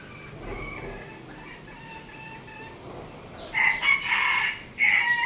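A fighting-cock decoy rooster crows loudly twice in the second half, long harmonic calls after a stretch of quieter background chatter and faint bird sounds.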